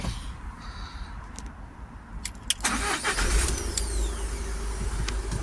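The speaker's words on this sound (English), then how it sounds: "now we can start the vehicle up" A Toyota ProAce 2.0 diesel van engine cranks briefly and catches, then settles into a steady rumbling idle close by.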